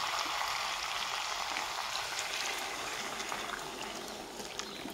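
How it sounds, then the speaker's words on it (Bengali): Hot water hisses and sizzles as it hits mutton kosha browning in a pan, a steady bright crackle that slowly eases, close and without talk. "এখন আমি গরম জলটা দিয়ে দিব।"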